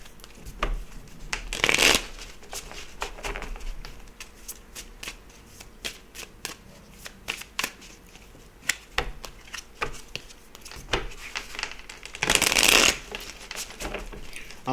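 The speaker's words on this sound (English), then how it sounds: "Let me give it another shuffle here." A deck of tarot cards being shuffled by hand, with two loud riffling bursts and many smaller card taps and slides in between, close and clear.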